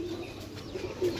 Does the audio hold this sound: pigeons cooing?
yes